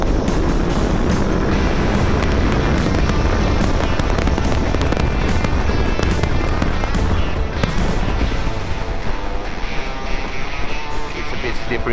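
A Yamaha T7 motorcycle fitted with a power kit accelerates hard in third gear, its engine a loud, steady roar with heavy wind rush throughout, close and continuous with no pause.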